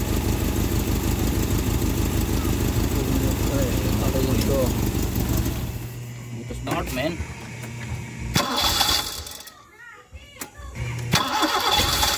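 A Toyota 5K engine cranks and fires, running loud and rough for several seconds before cutting out, followed by clunks and a voice speaking close by.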